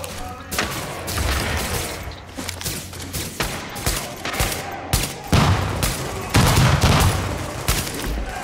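Dense, rapid gunfire and explosive booms from the video game Tom Clancy's The Division, loud and continuous throughout with bursts of automatic fire and heavy thumps, close and intense.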